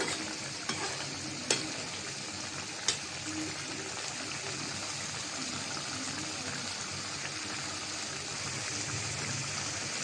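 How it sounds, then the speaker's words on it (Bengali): Mixed fish stirred as it fries in a pan, a steady broadband sizzle with a few sharp utensil scrapes near the start, continuous and fairly close for the whole stretch. "মাছগুলো সব দিয়ে দিলাম হালকাভাবে একটু নাড়াচাড়া দিয়ে দিলাম মাছটা"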